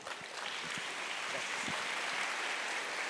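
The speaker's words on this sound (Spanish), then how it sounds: "Fuertes las palmas para nuestra vicerrectora" Faint, steady applause from a university audience honoring the vice-rector, a soft hiss of many hands that sounds distant and continuous.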